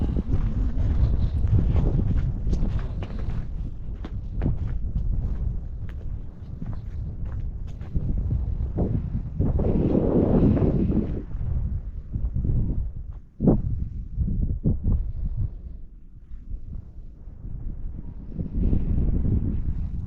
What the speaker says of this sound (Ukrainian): Тільки зараз трохи вітряно.